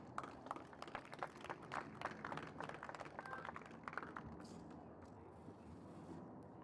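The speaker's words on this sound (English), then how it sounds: "A round of applause." Faint audience applause after the first wheelchair tennis match at the Lexus British Open in Roehampton: a soft patter of many hands that thins out and fades toward a quiet end.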